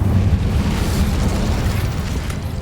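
The Incendio fire spell in the video game Hogwarts Legacy gives off a loud, continuous roaring burst of flame with a deep rumble that holds steady for a few seconds.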